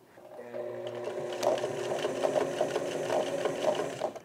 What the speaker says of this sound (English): One thing I am gonna do the same though is put a zigzag stitch on the end here.